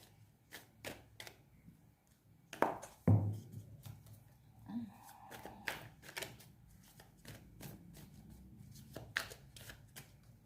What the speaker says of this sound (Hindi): इस वजह से मैं इस डेक को अच्छी तरीके से शफल कर ले रही हूँ